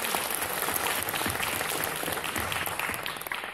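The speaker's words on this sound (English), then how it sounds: "applause." A comic convention panel audience applauds for a fan on stage, a dense, continuous crowd clapping that stays fairly even and tapers slightly near the end.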